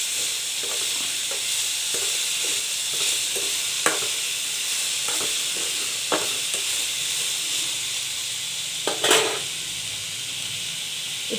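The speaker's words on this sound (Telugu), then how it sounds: "అన్ని వెజిటేబుల్స్కి ఈ కారం, ఉప్పు పట్టేలాగా కలుపుకోవాలి" Vegetables tossed with chili powder and salt in a hot pan, a steady loud sizzle with repeated scraping stir strokes and a few sharp clinks of the spoon against the metal, no voices.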